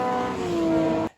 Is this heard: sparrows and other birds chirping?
no